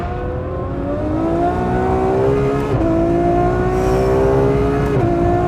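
Ferrari F12berlinetta 6.3-litre V12 revving hard, loud and close from inside the car, its pitch climbing smoothly, dipping briefly at gear changes, then rising again.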